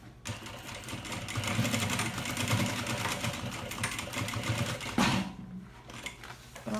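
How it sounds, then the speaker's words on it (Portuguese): Close, steady whir of a sewing machine running a fabric seam for a small insulated bag, ending in a brief reverse backstitch and a stop, then a quieter pause before the motor starts again. "marca um pezinho de máquina e costura e dá retrocesso"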